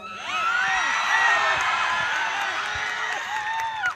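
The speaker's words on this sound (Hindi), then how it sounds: "कोई जोर से चीख मार सकता है?" Loud, dense screaming and whooping from a congregation at a live prayer service, a sustained wall of raised voices filling the whole stretch at close range.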